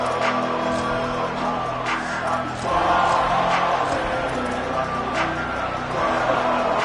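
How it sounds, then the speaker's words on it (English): A large stadium crowd in a college football video game roars and murmurs continuously at Oklahoma, a broad wash of cheering noise with a commentator talking over it. "This crowd bringing the energy and noise early."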